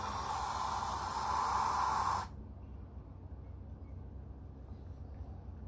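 A single steady hiss of water from a spray bottle lasts about two seconds, then cuts off, leaving quiet background.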